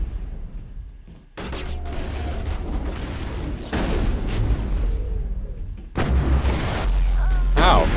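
Rocket blasts in the video game Mass Effect land as three loud booming impacts at spaced intervals, each with a rumbling tail over game background noise.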